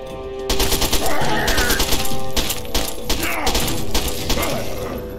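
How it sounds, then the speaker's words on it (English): Gunfire in the Fallout 3 video game, rapid bursts of loud, close automatic shots with sharp impacts and mechanical clatter over about five seconds. "I can shoot their foot. Still."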